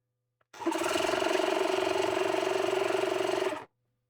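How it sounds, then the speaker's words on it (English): A repaired Ring air compressor pump kicks on and runs with a loud, steady mechanical buzz for about three seconds, then cuts off abruptly, with no other sound. "the pump works"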